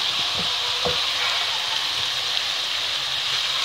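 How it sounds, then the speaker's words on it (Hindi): Chicken tikka roll filling with green chillies frying on a low flame, a steady close sizzle with a few soft stirring knocks near the start and no voices. "हम थोड़ी सी लो फ्लेम करके इसे फ्राई करेंगे।"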